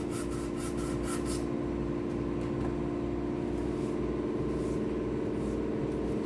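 Close, steady rasping and rubbing as the second coat of pour fill is sanded by hand, scraping continuously with a few faster strokes at the start.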